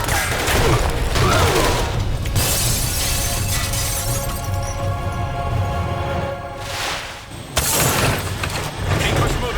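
Tranquilizer darts fire during a Marvel: Ultimate Alliance 2 cutscene: loud, dense bursts mixed with shattering crashes, briefly dipping before a sharp new burst near the end, with voices shouting through it.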